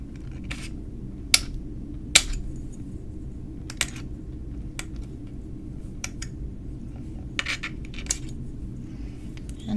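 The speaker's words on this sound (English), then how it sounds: "just a little bit of chopping." Small blade chopping a hexagonal cane on a work surface, a series of sharp, irregularly spaced taps and clicks, close and crisp over a low steady hum.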